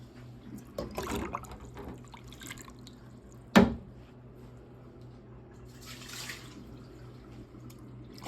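Water drips and trickles out of an aluminum part lifted from an ultrasonic cleaner bath, with one sharp clatter midway and soft splashing before and after.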